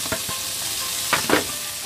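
Minced garlic fries in a pan of butter and oil with a steady close sizzle, broken by a few soft stirring scrapes and taps.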